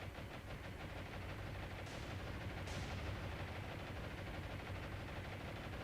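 Anti-aircraft guns on a battleship in War on the Sea fire in steady rapid bursts, a dense continuous rattle under an attack by Japanese aircraft, with no talking.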